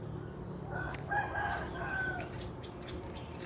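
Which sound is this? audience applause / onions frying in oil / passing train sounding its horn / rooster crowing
rooster crowing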